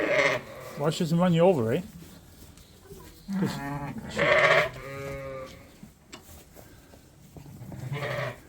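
Suffolk ewe with a slight limp in a farm lambing pen gives several wavering bleats, close and fairly loud, with people talking between and over the calls.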